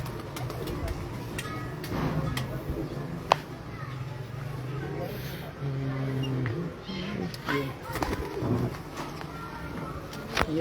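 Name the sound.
Lahore champion female pigeon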